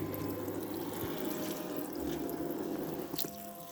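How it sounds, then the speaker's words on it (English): Water runs steadily from a tap or hose onto stored dormant scion wood, making a continuous splashing, trickling rush with a few louder drips near the end. "Turning on the water."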